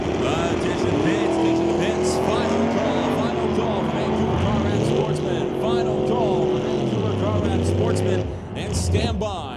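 Drag racing launch of a 1983 Monte Carlo and a 1963 Pontiac on a strip, loud engine roar with rising harmonic sweeps as the cars accelerate away, an announcer's voice continuing over the noise throughout.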